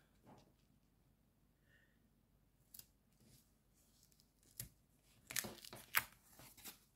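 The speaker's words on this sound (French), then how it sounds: "je vais en couper un bout" Scissors snip off a piece of material while making an envelope-style clasp case, several crisp, quiet cuts clustered toward the end after a few faint earlier snips and rustles.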